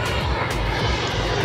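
A continuous low roar of an airplane engine, steady and fairly loud, as a plane passes overhead near an air force base at Tirang Beach, Semarang, with no voices.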